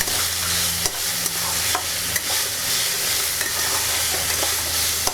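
Potatoes and mixed vegetables fry together in a pan for chirer polao, making a loud, dense, continuous sizzle with occasional scraping stirs, close up and without talk.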